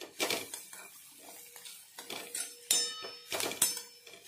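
Metal spoon scraping and clinking in a pan while chopped ridge gourd is stirred and mixed, in irregular close taps and scrapes with short pauses between strokes.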